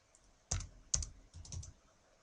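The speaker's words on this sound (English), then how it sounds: "I'll go to our client option and I'll type in the" Someone types a client name into office software on a computer keyboard, giving a few close, crisp key clicks in short bursts with pauses between them.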